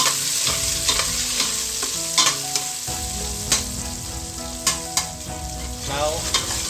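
Chopped large red onion frying in a pan, a loud close sizzle broken by sharp clinks and scrapes of stirring, with no voices.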